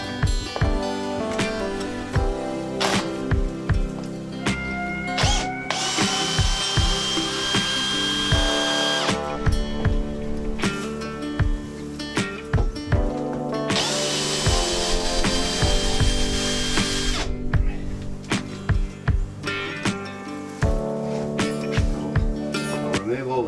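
A power drill backs screws out of a wooden beehive box outdoors, with long whirring runs, bursts of higher-pitched spinning and clicking bits between them, loud and close, with a voice talking at points.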